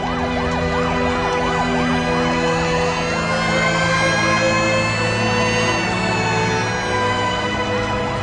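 A loud fire engine siren wails without pause near a blocked fire lane at a nightclub blaze, its rapid rising and falling tone holding steady throughout with no voices over it.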